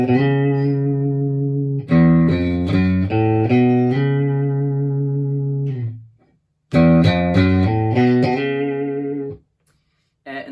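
Electric guitar playing the melodic solo line of a song, sustained, slightly effected notes in two phrases, with a short pause between them and a ringing final note.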